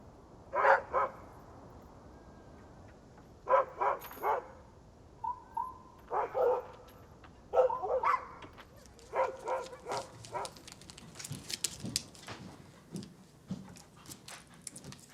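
Dogs bark in repeated short bursts, some yips and whimpers mixed in, moderately near and growing busier toward the end, with no talk.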